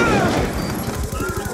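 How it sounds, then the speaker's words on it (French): A Black Ops 2 video game explosion rumbles as a loud, broad burst that keeps going with rough crackling and low thuds, with a voice talking over it. "Explosion."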